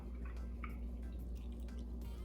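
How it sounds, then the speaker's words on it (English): One cup of almond milk poured into Guinness for Caribbean Guinness punch: a faint, soft trickle and a few light drips against a low background hum. "I'm just gonna begin pouring my 1 cup of milk into my Guinness over here."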